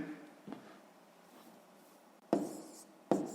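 Numbers written by hand for column multiplication in a fifth-grade maths exercise, a few soft scratchy pen strokes with brief louder bursts near the end, close and quiet, no talking.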